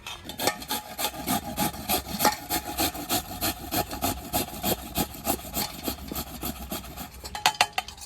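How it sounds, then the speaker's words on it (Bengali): Jackfruit seeds scraped on a hand grater for homemade paneer: steady rhythmic rasping strokes, close and fairly loud, with a quicker burst of scraping near the end and no speech. "এবার একটা গ্রেট করার মেশিন নিয়েছি এরকম, এইটার মধ্যে আমি কাঁঠালের বীজটা গ্রেট করে নেব।"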